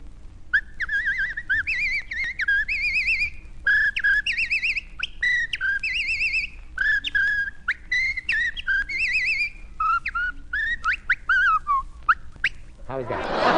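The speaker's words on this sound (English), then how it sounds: "I whistle, too" A person whistles a lively, warbling tune, clear and close, phrase after phrase with short pauses, over a low steady background hum, on an old Philco Radio Time broadcast.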